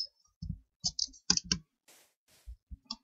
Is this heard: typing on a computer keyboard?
yes